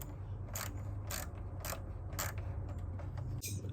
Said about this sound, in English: So first off is remove the 13 mil bolt.